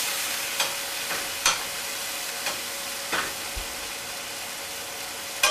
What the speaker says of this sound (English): Then we'll go in with our carrots. So that's another veg that takes a little longer to cook. And we'll saute that for a minute.